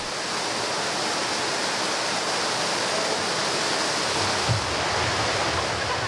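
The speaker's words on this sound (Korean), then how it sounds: "폭포다." A waterfall in a rocky gorge on Juwangsan mountain, South Korea, roars steadily and evenly throughout, a dense continuous rush of falling water with no pauses.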